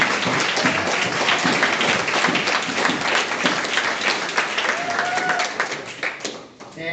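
At a lacrosse team awards event, the audience applauds the JV team with steady, dense clapping and a few voices mixed in, holding strong throughout before easing slightly near the end.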